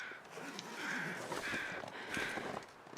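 Crows caw in a game's outdoor survival setting, with two or three harsh, rasping calls spaced about a second apart, fairly faint and distant over quiet wind.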